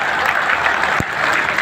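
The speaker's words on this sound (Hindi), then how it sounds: "जोरदार ताली बजा दो और सीटी तो बजाओ।" Loud, dense applause from a crowd at a gathering, continuous rapid clapping throughout with one sharp thump partway through.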